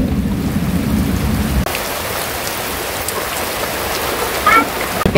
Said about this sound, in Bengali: বৃষ্টির ভিতরে ওয়ার্কআউট করতেছি গাইস।